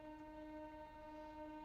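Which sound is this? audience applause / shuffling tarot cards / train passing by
train passing by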